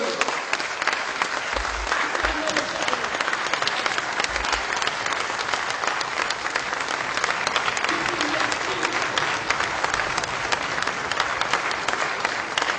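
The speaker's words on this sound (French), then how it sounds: "Levez-vous et acclamez-le." An audience at a ceremonial honorary parade for a traditional chief rises and applauds, producing dense, loud, sustained clapping that holds evenly throughout with a faint crowd murmur underneath.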